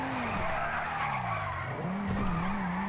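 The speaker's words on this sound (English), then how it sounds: "That was one of the worst drifts I've ever done" Tyres skidding and squealing as a car drifts in Grand Theft Auto V, a continuous close screech with a wavering engine pitch over about three seconds.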